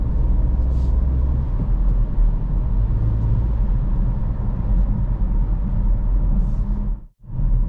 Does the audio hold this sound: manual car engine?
yes